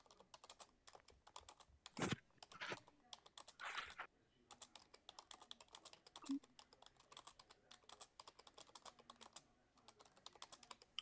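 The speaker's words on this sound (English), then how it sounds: "The only one with the loud keyboard." A loud computer keyboard clatters in rapid, continuous bursts of typing throughout, during an online game of Town of Salem, with a voice talking briefly partway through.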